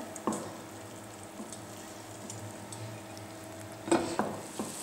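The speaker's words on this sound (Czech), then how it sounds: "Dál přidáme koření. Vše společně chvíli osmažíme." Onion with sugar and spices frying in a pot for a Czech tomato sauce, a soft low sizzle under scattered spoon scrapes, with a couple of sharper clinks of utensil against the pot near the end.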